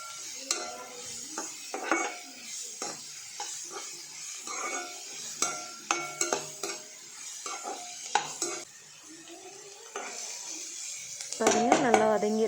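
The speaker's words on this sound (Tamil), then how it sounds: "இப்போ இது எல்லாத்தையும் நல்லா கலந்து விட்டுடலாம். இது நல்லா ஒரு 5 நிமிஷம் அளவுக்கு நல்லா வதங்கட்டும்." Radish and coriander leaves stirred and sautéed in a pan for radish chutney, with repeated scraping spoon strokes and a soft sizzle, plus a clatter of utensils near the end.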